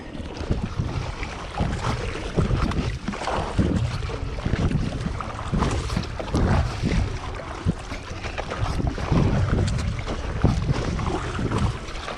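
Spinera Hybris 410 double inflatable kayak paddled on lumpy open water, with steady wash and splashing alongside continuous wind buffeting the microphone, fairly loud and unbroken throughout.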